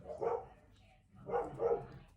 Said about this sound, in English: Dogs are barking if you can hear them.